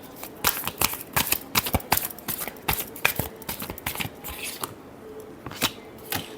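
Tarot cards shuffled by hand close up in quick, irregular riffling bursts of crisp snapping and flicking that repeat throughout.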